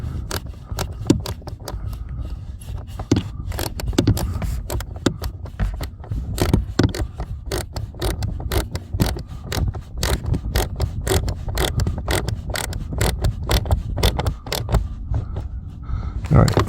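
A screwdriver tightens screws on a cabin filter cover in a Mercedes-Benz S560, giving close, repeated sharp ticks and clicks in a steady run, with a voice speaking now and then.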